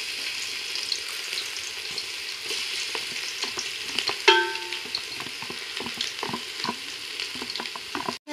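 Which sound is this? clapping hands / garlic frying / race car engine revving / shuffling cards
garlic frying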